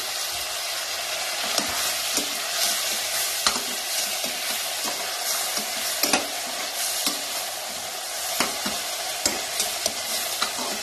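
Tomato, mint and coriander fry in a pan for veg dum biryani, giving a loud continuous sizzle with regular spatula taps and scrapes against the metal, no speech.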